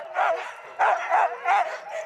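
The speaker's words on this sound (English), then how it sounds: "With the final dogs in place, Mike gives the command" Sled dogs bark and yip excitedly in repeated, rhythmic bursts of about three loud barks, close and carrying over a quiet background.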